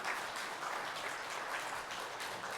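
Congregation applauding during a Sunday church service as a blessing is given and flowers are presented, a steady, fairly faint wash of clapping throughout with no talk over it.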